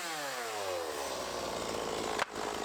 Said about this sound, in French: Heureusement, j'ai ma petite tronçonneuse.